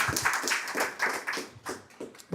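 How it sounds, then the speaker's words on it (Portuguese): Warm applause from an audience at a business lecture greets a speaker, with irregular claps that are moderately close and fairly quiet and that thin out toward the end. "vamos receber com uma calorosa salva de palmas aí"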